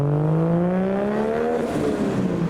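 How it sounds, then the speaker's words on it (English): A modified Lexus IS passes by at a scenic beauty spot, its engine droning loud and near with a steady, gradually climbing tone before it changes pitch and fades slightly as it moves away. "There goes the IS"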